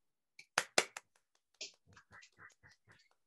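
A few sharp, scattered claps ring out at a 2021 preparatory school graduation ceremony for a student receiving an art award, quickly giving way to a voice speaking nearby.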